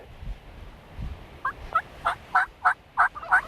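A wild turkey gobbles out in open grassland, one gobble rolling into a run of about seven sharp, rising bursts, moderately distant over quiet background.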